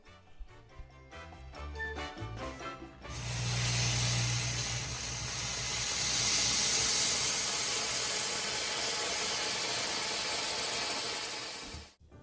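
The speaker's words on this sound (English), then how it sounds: "The Versa Steam by Dirt Devil doesn't actually have an on-demand steam option, so it's just continuously blasting out steam," A Dirt Devil Versa Steam mop blasts steam continuously onto tile grout, a loud, steady hiss that bursts in after a few seconds of clicking, runs unbroken for about nine seconds, then cuts off abruptly.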